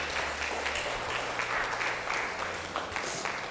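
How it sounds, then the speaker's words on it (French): Applause for an 8-year-old girl at a children's cooking competition, a steady crowd clapping that fills the whole stretch at even loudness, with faint voices underneath. "On va applaudir la petite fille de 8 ans là"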